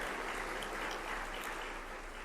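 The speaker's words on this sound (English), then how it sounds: "One more round of applause for our law-related education award recipients." Steady applause from luncheon guests at a state bar annual meeting honoring law-related education award recipients, a dense, even wash of many hands clapping in a large room, moderately loud and continuous throughout.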